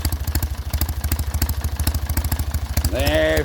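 A small single-cylinder engine runs steadily after starting, its loud, even low chugging pulsing rapidly throughout, with a tonal whine and voices entering near the end.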